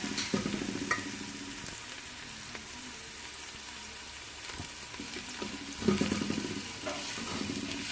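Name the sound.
onions frying in ghee or oil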